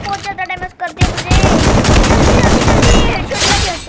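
Dense rapid-fire gunfire in the Free Fire mobile battle-royale game, a loud sustained fusillade of overlapping shots following a brief stretch of in-game noise, with a voice heard over the opening.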